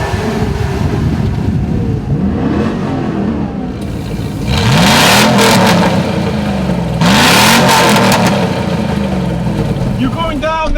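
A 2018 Jeep Wrangler with a V6 and 8-speed and a Hummer H2 with a V8 and 4-speed rev hard at a drag race. Engines rise and fall in repeated sweeping pulls, loud and close, with two stronger surges in the middle.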